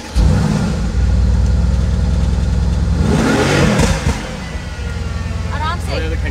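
A car engine runs loudly close by, holding a steady drone with a brief surge of revving in the middle before settling back, while people talk inside the vehicle.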